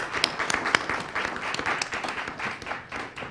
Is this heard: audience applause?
yes